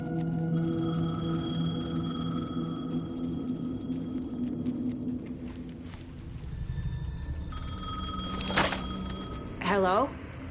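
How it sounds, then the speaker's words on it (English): Payphone ringing in Alan Wake 2, tonal electronic ring tones sustained through the first half under ambient noise, followed by clicks and a brief handset pickup sound. "Payphone was ringing."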